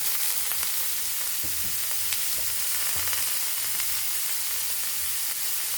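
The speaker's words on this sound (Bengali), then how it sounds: "এখন ভালোভাবে সবজিগুলো ভেজে নিতে হবে।" Vegetables frying in a pan with onion, garlic, ginger and chili for leftover-rice fried rice, a continuous loud sizzle with occasional stirring scrapes and no talk.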